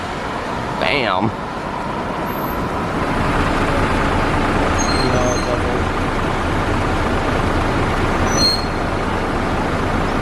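Street traffic in Hakone-Yumoto, with buses rumbling past and a continuous low engine drone, a brief high squeal near the start and faint bright tones later, heard from the roadside.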